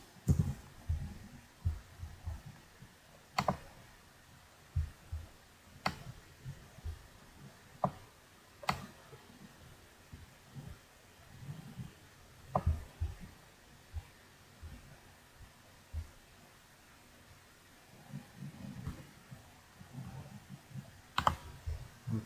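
Faint, sparse typing on a computer keyboard, scattered individual key clicks with irregular pauses, quiet and close, with no voices.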